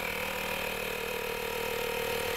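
Acura tire sealant and inflator kit compressor running steadily while pumping sealant and air into a car tire, a continuous close mechanical drone with a fast rattling pulse and no talking.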